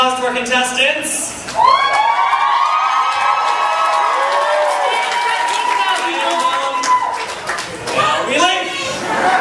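A convention crowd cheers and whoops for deathmatch contestants at an anime con, with loud continuous shouting, children's yells and scattered clapping filling the room. Excited voices rise and fall throughout.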